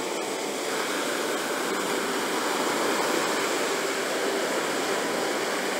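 Steady broadband wash of ocean surf at a beach at night, a continuous close roar with no distinct breaks between waves, heard alone without any voices.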